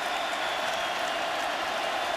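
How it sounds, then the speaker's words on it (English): Stadium crowd at a 2009 Oklahoma Sooners vs BYU Cougars college football game, a loud, steady roar of cheering and clapping with no break and no voices standing out. "Crowd getting louder."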